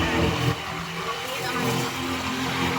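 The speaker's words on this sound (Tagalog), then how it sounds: "Ito na kami sa tricycle." Motor of a tricycle being ridden, a steady engine drone and road rumble close by, with brief voices in the background.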